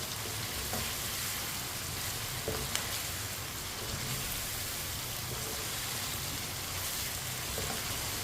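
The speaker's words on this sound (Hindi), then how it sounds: "2-3 मिनट के लिए पका लेते हैं चम्मच चलाते हुए।" Chopped green chilies cook in a pan for white chicken, giving a continuous close sizzle with light spoon stirring and scraping, no talking.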